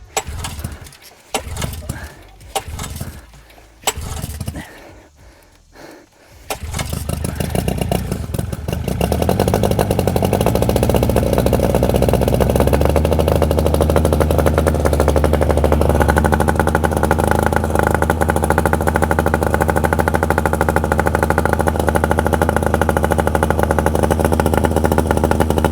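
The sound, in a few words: 1957 Johnson AD-11 7.5 hp outboard engine starting and running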